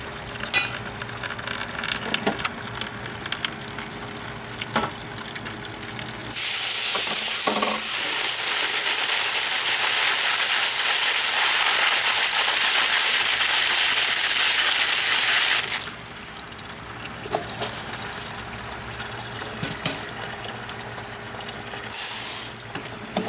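Water spraying hard from a hose into a cleanout sink for rock tumbler barrels, a loud broad hiss lasting several seconds between quieter stretches of dripping and splashing.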